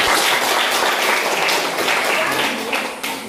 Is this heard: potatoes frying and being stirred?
no